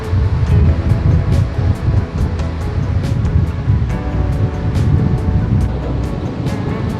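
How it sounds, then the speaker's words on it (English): Strong wind buffets the microphone while surf rolls and washes steadily at a beach near Whangārei, a loud, continuous roar with no talking. "Very windy."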